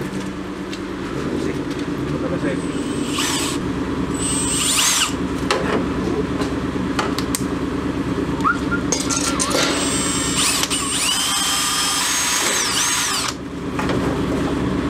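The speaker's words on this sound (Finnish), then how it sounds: "nopea puoli päälle ja pora oikeaan suuntaan" A power drill whirs steadily in bursts, with high-pitched grinding squeals as it bites, over a constant mechanical hum.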